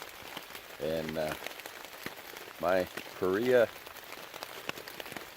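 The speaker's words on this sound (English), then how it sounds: "it's pouring rain right now." Heavy rain hisses steadily on a tarp at a rainy campsite in April, a continuous wash of sound under short bursts of a man's speech.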